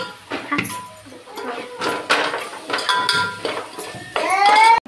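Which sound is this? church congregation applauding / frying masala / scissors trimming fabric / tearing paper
frying masala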